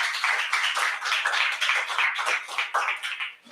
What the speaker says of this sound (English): Can we also have one more round of applause for the great staff of ETC?